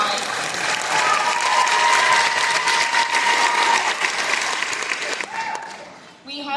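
Steady audience applause fills a school Halloween concert for seventh grade orchestra and band, a dense crowd clapping continuously before thinning out near the end.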